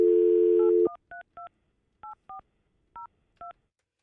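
Phone call being dialed: a dial tone stops, then a series of seven or so short, evenly spaced touch-tone beeps are keyed in one after another, clear and alone.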